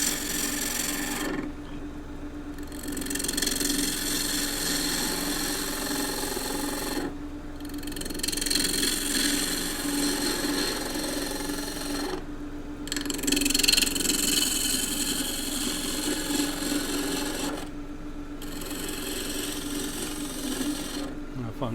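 Continental roughing gouge cutting wood on a lathe, a steady loud rasping shaving sound in four long passes, each broken by a brief pause as the tool is repositioned, with the lathe hum running underneath.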